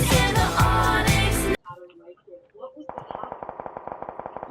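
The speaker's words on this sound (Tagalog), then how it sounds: "baril lang niya malapit yan, Bong" Rapid gunfire from a nearby weapon in a video game, heard as a fast train of sharp repeated shots in the final seconds, after loud music at the start and a quieter stretch.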